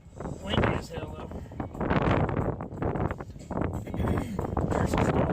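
Strong wind buffeting the microphone in loud, rumbling gusts that keep rising and falling, in the mountains on the Trans America Trail.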